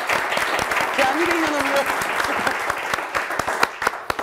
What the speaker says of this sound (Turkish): Önce Samet Bey'e bir alkış alalım